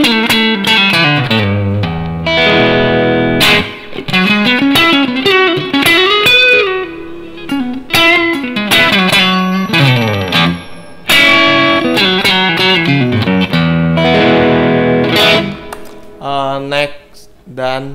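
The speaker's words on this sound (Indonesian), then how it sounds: "Ini drive crunch ya. Atau nggak terlalu drive yang distorsi banget." A 2004 sunburst Squier Stratocaster Affinity electric guitar on its neck pickup plays through an amp set to a crunchy drive, ringing chords and riffs with mild distortion, loud and close, with brief pauses.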